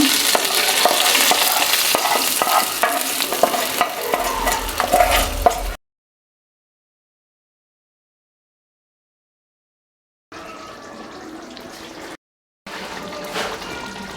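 Hot sizzling tempering is poured into mutton masala, giving a loud crackling fry and stir sound that stops abruptly, followed by silence and then two shorter, quieter bursts of sizzling.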